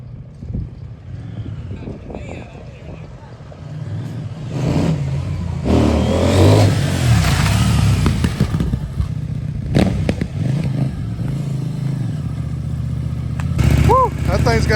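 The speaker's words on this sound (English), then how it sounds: "you just flipped the throttle and the back end went sideways on you" A CFMOTO NK motorcycle engine revs on the throttle, rumbling and surging in loud bursts at close range, with clattering and a sharp rising rev near the end.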